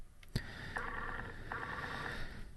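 An electronic telephone ring sounds in two repeated bursts, close and fairly loud, with a sharp click at the start and no voices.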